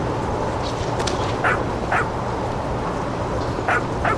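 A dog in the video game What Remains of Edith Finch gives several short barks and yips over steady ambient background noise, moderately close.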